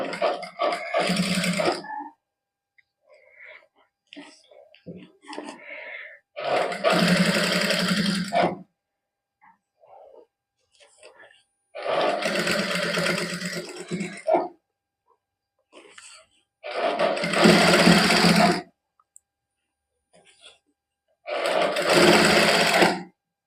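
Sewing machine stitching gota patti lace onto a fabric sleeve, five separate bursts of rapid clattering stitching separated by quiet pauses with occasional soft talk between them.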